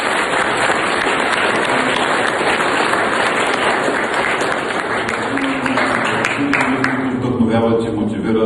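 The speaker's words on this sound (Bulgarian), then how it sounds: "Моля, аплодисменти." Audience applause at a school event in Burgas fills the space, a dense, steady wash of clapping held throughout at high level, thinning slightly toward the end as a voice and murmur emerge.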